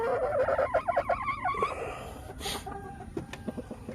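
Hens clucking and cackling close by in a layer flock being fed commercial feed, rapid repeated clucks in the first half easing into softer scattered calls and a brief crow-like note, with a hiss of background noise.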